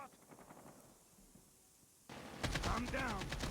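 Gunfire in the mobile game Call of Duty Mobile rattles in rapid bursts, growing louder and denser near the end over game sounds, while a player talks excitedly.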